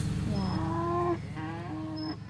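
A cow car in the Roblox game Tol Anomalies lets out two loud, drawn-out moos in quick succession, close up over a low background hum.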